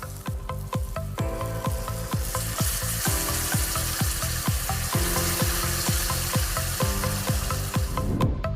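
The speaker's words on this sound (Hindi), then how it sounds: "इसमें फिर हम वैसे ही तड़का मारेंगे। आपका तेल, जख्या, इसमें थोड़ा प्याज," Dal tempering in hot oil with jakhiya seeds, onion, tomato and green chili: a loud, continuous close-up sizzle and crackle, with repeated stirring scrapes against the pan at a steady rhythm.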